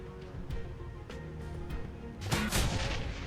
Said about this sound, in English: She's got a grenade launcher.